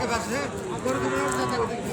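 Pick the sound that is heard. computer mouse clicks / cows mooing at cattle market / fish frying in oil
cows mooing at cattle market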